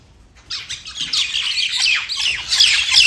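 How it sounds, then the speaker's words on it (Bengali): Myna birds squabble over scattered food, a dense, close flurry of harsh squawks and chirps that starts abruptly and continues without pause, loud and overlapping. "দেখো কত শালিক পাখি এসেছে আজকে"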